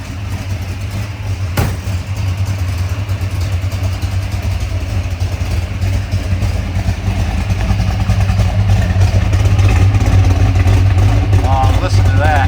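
A 1970 Ford Torino Cobra SCJ V8 idles with a deep, lumpy rumble through its exhaust pipes, then rises in revs toward the end; the throb stays loud and close. People talk faintly underneath.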